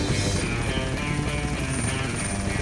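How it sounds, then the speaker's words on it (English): A helicopter drones steadily in the distance, a faint, even rotor rumble with no talk over it. "Oh, a helicopter."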